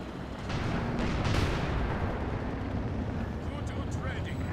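Tank and gunfire in a video game: a dense, continuous roar of explosions and rumbling fire, with voices speaking over the combat.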